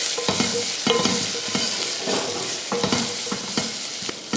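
Spices and curry leaves sautéing in a pan for rasam, stirred with a spoon: continuous close sizzling and frying crackle with repeated scraping stirs, and no talking.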